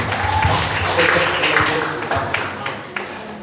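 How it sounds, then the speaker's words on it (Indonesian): An audience at a village youth organization's gathering with a subdistrict head in Indonesia claps steadily and densely throughout, with a faint murmur of voices beneath it. "Beri tepuk tangan."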